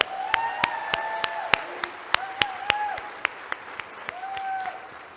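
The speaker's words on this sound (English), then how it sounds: "One more round of applause for Colleen," Luncheon audience applause, a crowd clapping with sharp, distinct hand claps standing out over a steady patter, while a voice speaks through it.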